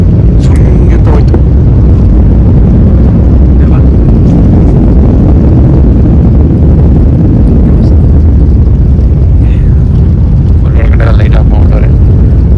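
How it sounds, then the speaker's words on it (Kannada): A passenger airplane takes off, heard from inside the cabin as a steady, loud low roar that fills the whole stretch, with faint voices murmuring underneath. "ನಮ್ಮ ಫ್ಲೈಟ್ ಟೇಕ್ ಆಫ್ ಆಗ್ತಾ ಇದೆ"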